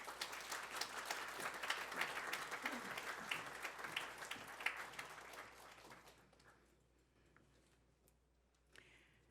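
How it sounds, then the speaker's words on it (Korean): A church congregation at a Sunday service claps to welcome a pastor to preach, a moderate burst of many hands that fades out after about six seconds, leaving near silence with a few stray claps. "큰 박수로 맞겠습니다."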